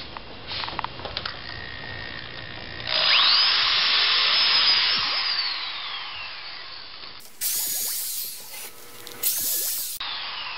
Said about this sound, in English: I'll drill on this side and show you on this one.